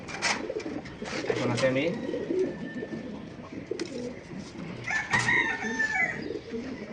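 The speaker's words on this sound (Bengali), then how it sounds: "গাইস, এটা কি কবুতর চিনতে পারছেন? ইন্ডিয়ান লাল দম, খুবই রেয়ার একটা কবুতর" Indian red pigeons coo repeatedly in soft, low, throaty phrases close by. A person speaks over them.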